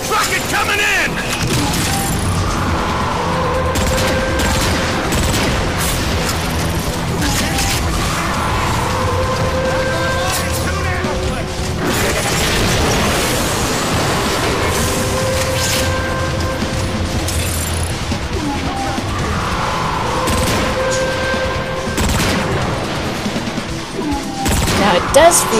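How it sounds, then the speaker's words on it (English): Incoming rocket fire in Transformers: Fall of Cybertron: a dense, continuous clatter of mechanical battle noise with repeated booming bursts and rattling impacts, loud throughout. "Rocket coming in!"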